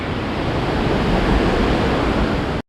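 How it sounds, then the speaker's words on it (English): A river rushes through Martvili canyon in Georgia with a loud, close, steady roar of flowing water that stops abruptly. "the river here, look"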